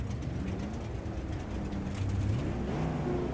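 A truck engine drones steadily in the off-road racing game BAJA: Edge of Control, a loud, continuous low rumble with slight rises in pitch as it accelerates.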